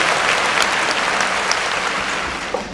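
A crowd at a Tamil debate event honoring Kamaraj's birthday applauds to welcome the closing speaker, a dense, steady roar of clapping that holds loud throughout before easing slightly at the end.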